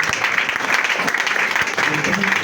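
During a church prayer service, a crowd claps in irregular bursts under loud ongoing talk from a preacher.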